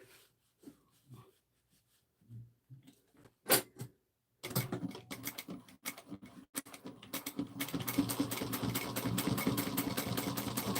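Sewing machine back stitching a half-inch seam on a small trinket pouch, scattered clicks and handling noises giving way to a rapid rhythmic mechanical chatter that runs steadily for several seconds, close by.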